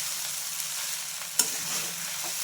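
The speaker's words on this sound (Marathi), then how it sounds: "आता ही आपली साबुदाणा खिचडी मिक्स करून घ्यायची पूर्ण" Sabudana khichdi with crushed peanuts is stirred in a pan over a steady, hissing sizzle, with one sharp clink of the utensil partway through and no voices.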